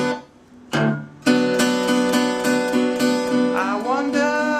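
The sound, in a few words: acoustic guitar finger-picked Delta blues break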